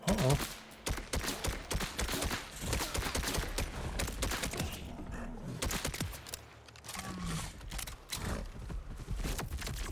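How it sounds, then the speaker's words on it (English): Shotgun blasts boom in the Borderlands 4 video game, a rapid series of sharp, loud shots with short gaps amid game combat noise. "Oh, the shotgun is amazing."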